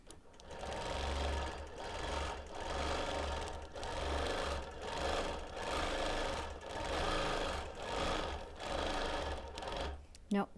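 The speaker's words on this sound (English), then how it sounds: "Nope, skipping again." A sewing machine stitches quilt fabric in steady bursts, about eight evenly spaced runs of rapid mechanical chatter separated by short pauses, close and fairly quiet, with a brief clunk at the end.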